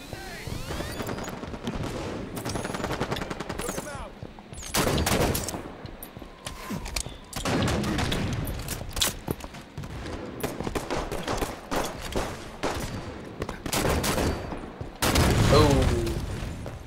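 Explosive gunfire and booming blasts in a Halo 5 Slayer multiplayer match on the Stasis map, with loud bursts recurring across the span, the heaviest near the end, mixed with other game noise.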